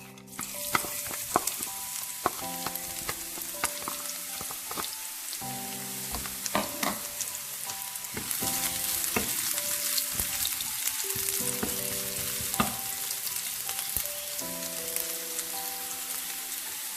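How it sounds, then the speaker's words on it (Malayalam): Chopped ginger and garlic frying in oil in a pan for a Kerala-style chickpea curry, with a dense crackling sizzle throughout that grows louder midway, under intermittent stirring scrapes and faint background music. "അതിലോട്ട് നമുക്ക് അരിഞ്ഞു വെച്ചിരിക്കുന്ന ഇഞ്ചിയും വെളുത്തുള്ളിയും കൂടി ഇട്ട് കൊടുക്കാം"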